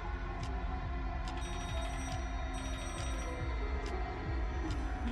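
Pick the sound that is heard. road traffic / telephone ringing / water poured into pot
telephone ringing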